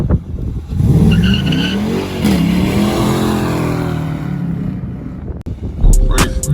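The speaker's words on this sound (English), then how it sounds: "Drift up like I'm Ghosty V8. We got that foot on the gas like we on Motor Speedway" A Dodge Charger R/T with a V8 engine drifting, its engine roaring loudly and its tires squealing as it slides, close by, with a short pause and a sharp thump near the end.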